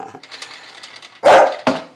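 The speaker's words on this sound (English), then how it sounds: "I don't want to hear barking" A pet dog at home lets out two loud, sharp barks near the mic after a stretch of softer whimpering noises.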